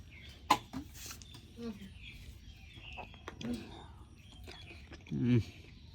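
Someone chews ripe jackfruit up close, with soft wet bites and mastication sounds arriving in irregular bursts, along with quiet murmured speech and faint background noise.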